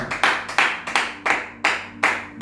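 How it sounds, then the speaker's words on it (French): A church congregation clapping in rhythm during a service, about eight sharp, even claps that ring in a reverberant room, with no talking over them. "Acclamons la parole de Dieu au nom de Jésus-Christ"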